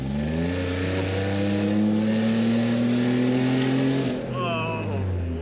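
A supercharged Toyota Sienna minivan launches hard, its engine roaring loud and close as the pitch climbs steadily through the revs before briefly dropping near the end.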